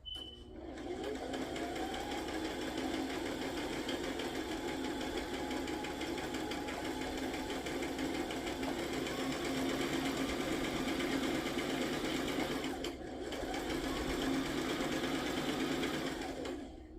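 A sewing machine runs nonstop, stitching strips of fabric together in alternating straight and zigzag seams, a steady close mechanical whir with a brief pause near the end.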